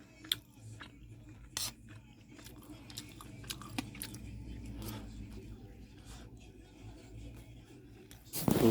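Fried rice with egg and chicken is being chewed in close, soft crunchy bites. The chewing runs on irregularly under faint background noise, with a few sharper clicks and a brief louder burst at the end.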